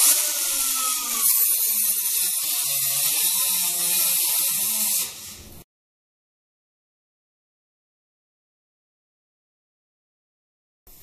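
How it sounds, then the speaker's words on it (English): A power tool cuts a 6 by 9 inch rectangular patch from 18 gauge sheet metal for a Camaro firewall, a steady high whining buzz for about five seconds that then stops abruptly into silence. "Now over here on a piece of 18 gauge, I've got a 6 by 9 inch rectangular patch laid out, and we're going to go ahead and cut it out."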